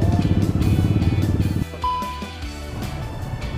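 A Yamaha Vixion motorcycle pushes through waist-deep Jakarta flood water, its engine rumbling and chugging steadily up close, then dropping to a softer idle with faint clatter.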